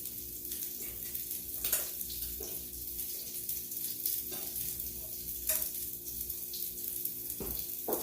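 Burger patties fry in a hot pan, a steady close sizzle and crackle with a few sharper spatters and scrapes as they crisp, no talking over it.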